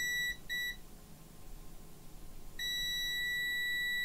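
A multimeter gives continuity beeps while testing between a header pin and a BIOS flash IC pin: two short close tones, then a longer sustained beep that starts partway through and continues to the end.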